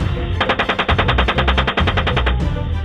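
Sustained burst of rapid automatic machine-gun fire, a steady fast string of loud close shots lasting about two seconds, with some background noise and no talk.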